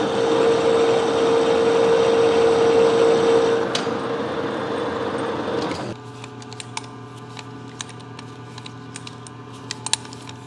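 Metal lathe cutting a lathe chuck adapter, a steady loud machining whine with a tonal hum for several seconds, then dropping to a quieter idle hum with small scattered clicks.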